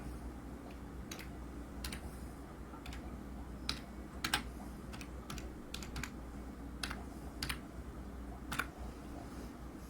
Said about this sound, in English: Let's just see if I can type in Paul Freeman to get that.